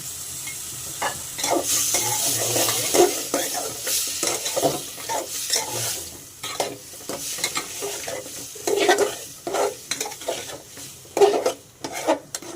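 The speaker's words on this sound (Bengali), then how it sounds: "আলুটা একটু ভালো করে কষাই দেবো।" Potatoes stirred and sautéed in fried spice masala, with repeated close spoon scrapes against the pan over a continuous sizzle, irregular strokes throughout.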